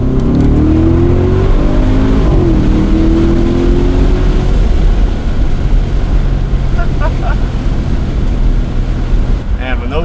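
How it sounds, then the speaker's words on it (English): Tuned Audi SQ7, a 5,000-pound three-row turbo SUV making nearly 700 hp, accelerating hard with a loud, steady engine roar, rising harmonics early on and heavy wind noise throughout, close to the microphone. "And when those turbos light, which doesn't take long, this thing throws you back in the seat."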